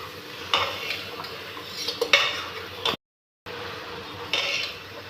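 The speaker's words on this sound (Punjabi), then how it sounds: "ਹੁਣ ਆਪਾਂ ਚੰਗੇ ਤਰੀਕੇ ਨਾਲ ਇਹਨੂੰ ਮਿਕਸ ਕਰ ਦੇਵਾਂਗੇ" Dhaba-style baingan bharta of eggplant and tomatoes is stirred in a cooker, giving close scraping and clinking utensil strokes against the metal with a short silent break midway.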